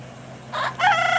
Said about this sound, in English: Got the chickens here.